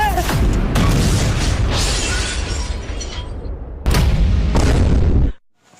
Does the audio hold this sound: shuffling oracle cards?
no